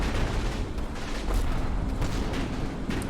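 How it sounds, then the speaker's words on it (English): In a World War II strategy video game, dense rumbling explosions and battle bursts layer into a loud, continuous barrage without pause. "that's a lot of explosions"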